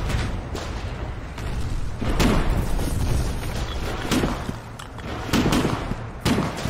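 Explosions and gunfire in the Foxhole war game during a ballista attack on a fortified position, with repeated heavy booms and cracks over a dense rumbling battle backdrop.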